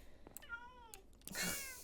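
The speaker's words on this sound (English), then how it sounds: "Perfectly timed meow." A Minecraft cat gives a clear meow, followed by a second, louder and more drawn-out meow, both close and quiet, with no voices.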